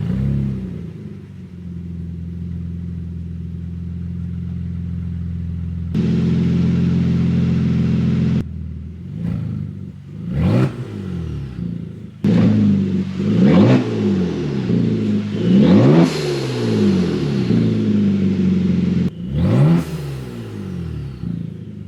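A 2019 Kia Stinger GTS with straight-piped exhaust cold-starts by remote: a steady low idle, then a loud crack as it fires, followed by a series of sharp revs rising and falling, close and loud, with no talking.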